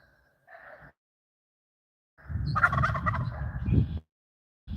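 Turkeys gobble nearby: a brief call, a pause, then a longer burst of rapid, warbling gobbling from more than one bird.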